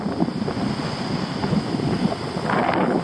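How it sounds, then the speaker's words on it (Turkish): Strong wind buffets the microphone in a constant roaring rush, with a faint wash like surf behind it and no voices. "Hava çok rüzgarlı."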